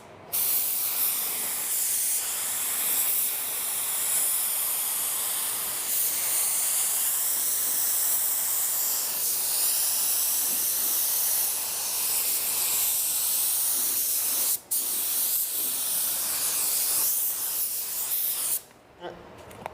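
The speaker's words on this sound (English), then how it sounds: "We're gonna spray with 30 PSI, fan pattern wide open." A paint spray gun spraying car paint in a garage at 30 PSI with the fan pattern wide open hisses continuously and loudly for nearly twenty seconds, with a brief break near the end.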